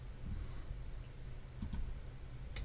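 A few sharp computer mouse clicks on a desk during Salesforce work, two close together then a third after a pause, quiet against a low room hum.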